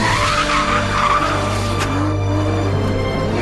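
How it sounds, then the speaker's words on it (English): An Aston Martin V12 Vantage runs hard on a hill circuit, its V12 engine giving a loud, steady drone with tyres squealing through a corner. "Just listen to the engine."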